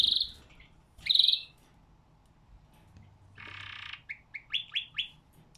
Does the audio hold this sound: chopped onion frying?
no